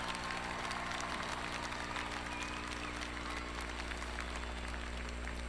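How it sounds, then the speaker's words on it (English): A large commencement-ceremony crowd gives sustained, dense applause for graduating students, a steady even clatter of many hands over a low hum in a big hall. "a big round of applause for all our graduate student graduates as well"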